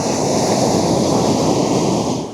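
Ocean surf rolls onto the shore on a cold winter night at a shore-fishing spot. The waves make a loud, steady broadband roar mixed with gusting wind noise on the microphone. No voices are heard.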